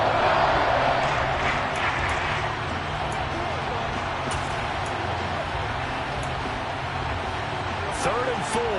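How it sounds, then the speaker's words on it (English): A packed stadium crowd at an American football game involving the Lions roars steadily to urge on the home defense on third down, a dense, continuous wall of noise with no letup. "This crowd urging on their defense. They're up and making noise."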